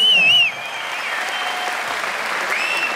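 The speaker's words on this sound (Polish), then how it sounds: "Jeszcze raz gorące brawa." Loud applause from a fight-night crowd at an MMA event, steady dense clapping across the whole stretch with a whistle at the start, fairly close and continuous.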